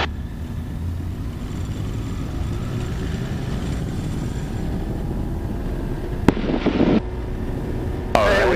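A Pipistrel Alpha Trainer light aircraft engine runs at full throttle for takeoff, a steady loud low drone filling the cabin throughout, with a couple of sharp bursts of higher noise near the end.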